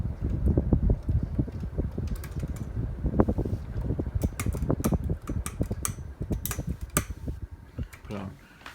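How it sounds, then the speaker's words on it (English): A Codep Stratosphere 52-inch ceiling fan spinning down after being switched off, a steady broadband whoosh of air with repeated ticking from the slowing mechanism, close by and continuous. "go ahead and shut off the fan and do spin down"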